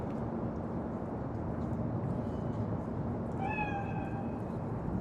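A cat meows in the video game Cyberpunk 2077, one short rising meow partway through, heard over a steady low ambient hum and background noise.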